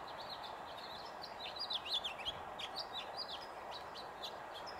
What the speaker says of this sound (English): I think that was a Bewick's wren.